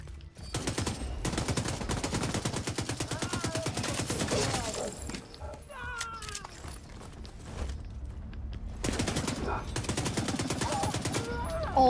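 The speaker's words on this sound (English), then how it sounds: "this gun is way too good, dude. Literally, it just mows down everyone." Rapid automatic gunfire rattles out in The Division 2, long sustained bursts broken by short pauses, loud and close, with a voice heard between bursts.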